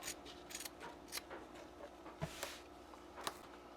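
Quiet, crisp snips and crunches of scissors cutting through thick denim fabric, several irregular cuts spread across the moment.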